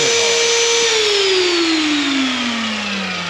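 A power drill bores down through a workbench with a cutout, running loud and steady while its motor pitch sags gradually under load.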